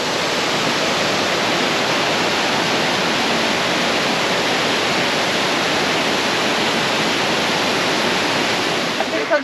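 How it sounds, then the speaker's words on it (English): A waterfall in Tasmania roars steadily and loudly, a dense, unbroken rush of falling water with no pauses throughout. "this is definitely the best waterfall in Tassie"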